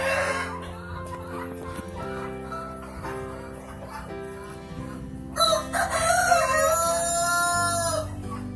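A rooster crows loudly in a long rising then sustained call near the end, after a stretch of steady background hum and faint farmyard noise.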